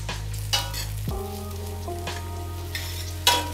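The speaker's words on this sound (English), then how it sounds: "add our onions directly into the pan immediately. And let those cook up just a bit" Onions cook in a pan over medium-high heat, giving a steady sizzle with a few sharp scraping clatters mixed in. A low hum runs underneath, and no voice is heard.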